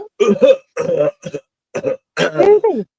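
A person imitates a sheep coughing, with several short, rough, throaty hacks in bursts, close to the microphone.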